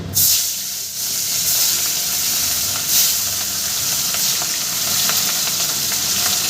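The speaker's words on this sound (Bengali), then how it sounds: "এবার এই মাছটা ওর মধ্যে এক একে ভেজে নেব" Catla fish pieces frying in hot oil in a wok, a loud, steady sizzle and hiss that holds throughout, with a few sharper spitting surges and no talking.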